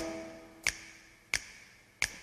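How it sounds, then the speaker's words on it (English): Three sharp, evenly spaced finger snaps, crisp and close, each a brief isolated click with quiet background between them. "Come on, everybody, and snap your fingers now."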